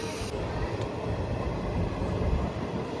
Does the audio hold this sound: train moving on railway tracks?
yes